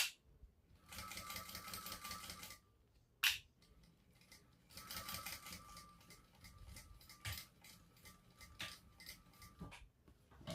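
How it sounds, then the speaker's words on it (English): A sewing machine stitches a shoulder bag right up against the zipper in quick runs of close, whirring needle strokes, separated by brief stops and small clunks as the fabric is adjusted. "And I'm sewing right up against the zipper."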